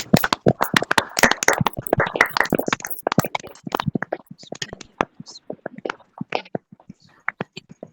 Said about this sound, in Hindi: इसलिए एक ऊंचे ताली के साथ परमेश्वर को धन्यवाद देंगे।